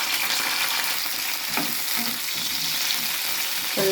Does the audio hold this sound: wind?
no